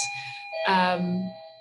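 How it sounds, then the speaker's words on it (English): A doorbell rings with a two-tone ding-dong chime, its notes ringing out and fading, heard indoors and fairly quiet. "sorry, that was a doorbell there."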